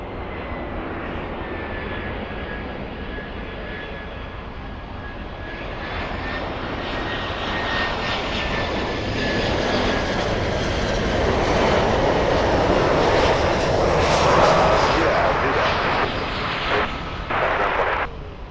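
Jet aircraft engines roar steadily at Miami International Airport, a broad continuous rumble that swells louder toward the middle as a plane passes nearby, with a thin whine riding on top.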